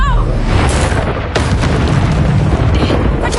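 Explosion from the Confringo fire spell in a video game, a loud boom-heavy roar with a sharp burst near the middle, dense and close.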